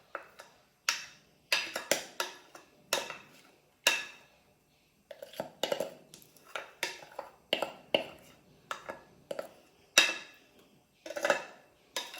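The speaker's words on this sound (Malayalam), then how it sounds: "ഇതിങ്ങനെ ഈ പാത്രം നന്നായിട്ടൊന്ന് ടാപ്പ് ചെയ്ത് കൊടുക്കണം. അപ്പോൾ എന്തെങ്കിലും എയർ ബബിൾസ് ഒക്കെ ഉണ്ടെങ്കിൽ പോകാൻ വേണ്ടിയിട്ടാണ്." A pan of jackfruit cake batter tapped against a surface to release air bubbles, making a series of sharp, close knocks in irregular bursts with quiet gaps between them.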